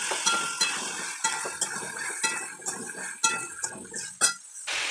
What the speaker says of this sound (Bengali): তেলের মধ্যে পেঁপে, আলু আর ছোলা দিয়ে দেবো।